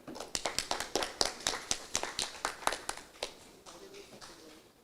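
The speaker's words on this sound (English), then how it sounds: "let us give both the proposition and opposition a round of applause again" An audience applauds after a debate speech at a World Pharmacist Day event: a small crowd's crisp, regular handclaps, close and fairly clear, fading out toward the end with faint voices.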